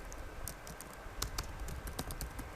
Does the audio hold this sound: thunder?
no